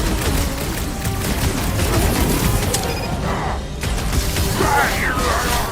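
Dense battle din from the Marvel's Guardians of the Galaxy video game, with continuous rapid blaster gunfire and booming impacts under a loud action soundtrack.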